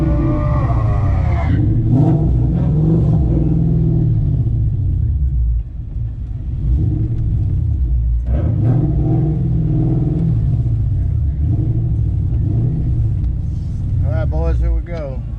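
Race car engines drone and rev at a track during a Sunday test session, deep rumbling pitch swells rising and falling repeatedly, loud and close, with people talking over the noise.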